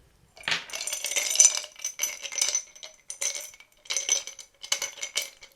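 Three dice clatter and clink as they are gathered and rolled on a table during a divination reading, in several bursts of rattling with short pauses between.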